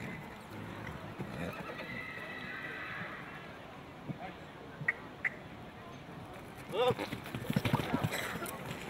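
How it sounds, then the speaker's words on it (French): A foal trots behind its mare, a former racing mare, with faint hoof beats on the ground, a loud whinny near the end, and someone talking over much of it. "On va lâcher le poulain pour le voir évoluer au trot, derrière sa mère"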